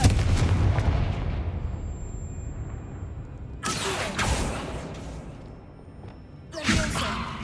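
The Confringo fire spell blasts in Hogwarts Legacy with a deep, rumbling boom, then two sharp whooshing fiery bursts spaced a few seconds apart, loud and close, with a game ambience drone underneath.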